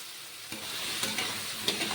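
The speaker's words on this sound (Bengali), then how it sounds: "এবার মশলাগুলোর সাথে মিষ্টি কোমর আলুকে ভালো করে ভেজে নেবো" Pumpkin and potato pieces fry in spice paste in a pan, giving a steady close sizzle broken by a few sharp spatula scrapes as they are stirred.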